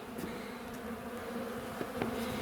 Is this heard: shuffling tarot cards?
no